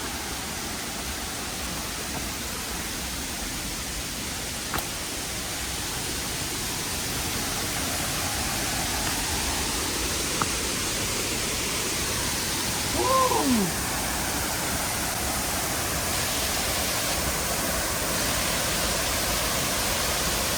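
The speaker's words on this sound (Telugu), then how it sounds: "శబ్దం చాలా విపరీతంగా ఉంది వాటర్ ఫాల్ది." A large waterfall hidden in a forest roars as a constant, broad rushing wash that fills the whole stretch, with a faint brief voice-like sound surfacing near the middle.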